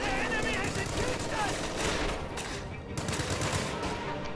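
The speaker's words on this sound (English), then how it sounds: "Heavy mortar firing." Heavy mortar and rocket barrage in a strategy video game, a dense rattle of distant booms and overlapping gunfire under continuous battle noise, with faint voices mixed in.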